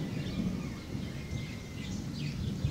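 Thunder rumbles low and continuous through a heavy rainstorm, with a steady wash of rain and faint bird chirps above it.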